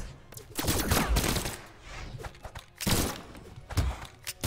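Guns in the video game Brawlhalla fire in rapid bursts, dense clattering volleys with thumping impacts coming in waves, loud and close.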